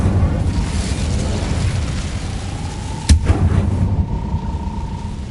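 An Incendio fire spell in Hogwarts Legacy roars as a loud, sustained burst of flame over rumbling game noise, with one sharp crack partway through and a thin tone ringing afterward.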